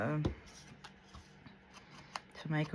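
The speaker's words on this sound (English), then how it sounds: "I just cut them apart to make them" Scissors snipping apart printed paper journal cards in a series of quick, light close cuts, with a person talking briefly at the start and end.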